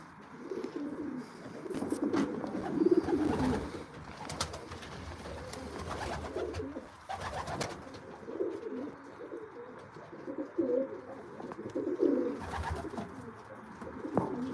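Racing pigeons coo in a loft, several birds overlapping in throaty rolling calls with wing flutters and sharp clicks, near and fairly loud, no talk.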